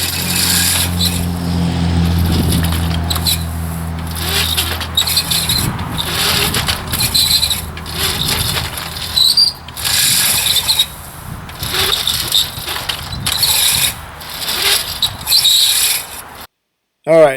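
Mower cutting through tall grass: a low mechanical drone with rhythmic rustling and swishing bursts of cut vegetation, fairly loud and close, broken by brief pauses and stopping abruptly near the end.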